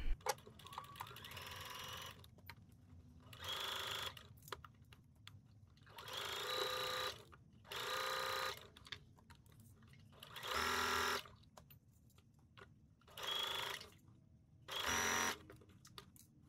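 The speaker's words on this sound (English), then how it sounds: "We're going to sew this all the way around with using a 3/8 of an inch seam allowance." A sewing machine stitches a neck facing onto a blouse in short bursts of steady whirring, about seven runs with quiet pauses between them, close and fairly soft, with no talk.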